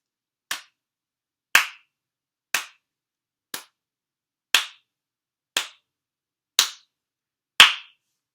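Hands clap together eight times in a slow, even rhythm about a second apart, each a sharp, dry, close smack followed by a short decay and silence. The claps sound like a single source, not a crowd.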